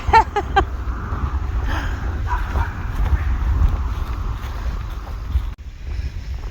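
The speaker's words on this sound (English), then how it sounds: "So the neighbor's sitting outside with his 3 or 4 dogs. And they was wanting to get me" A neighbor's three or four dogs bark outdoors, a quick cluster of sharp barks at the start that then gives way to steady wind rumble across the microphone.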